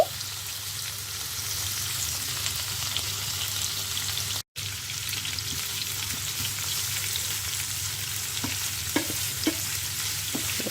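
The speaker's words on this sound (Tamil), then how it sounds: "நெத்தலி துண்டுகளை, நெத்தலி மீனை நான் போட்டிருக்கிறேன்" Dried anchovy pieces fry in a small amount of oil, giving a continuous hissing sizzle with occasional pops and stirring scrapes, close and steady, broken by a brief cut partway through.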